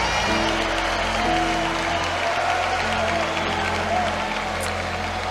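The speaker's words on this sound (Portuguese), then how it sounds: "dê um grito de glória a Deus, aplauda Jesus" Church congregation clapping and calling out praise during a Pentecostal service, a steady dense wash of applause with voices mixed in, close and loud throughout.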